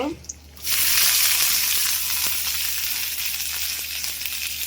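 Raisins hit hot ghee in a pan for chickpea halwa, bursting into a loud, steady, close sizzle after a brief quiet start and crackling on evenly to the end.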